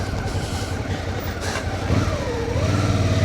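A motorcycle on road tyres rather than dirt bike tyres climbs a hill track, its engine droning steadily and close as the revs rise and fall under load.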